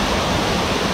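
Water stream falling near a cave, a dense steady rushing hiss with no breaks, loud and close in a brief moment.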